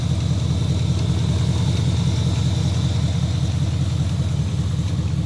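A Chevrolet 305 V8 engine in an El Camino idles steadily nearby, a low, even rumble with a regular pulsing beat and a faint high whine above it, no voices.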